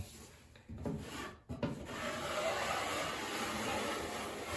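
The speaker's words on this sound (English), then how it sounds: "See how much mud, drywall mud's coming out when I squeeze it?" Drywall mud is squeezed out of a termite-damaged wood floor, making a close, steady rubbing and rasping sound after a brief pause, with no talk.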